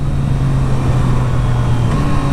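A 2023 Triumph Street Triple RS motorcycle rides with the throttle closed while downshifting. Its engine gives a loud, steady drone with a slight shift in pitch near the end.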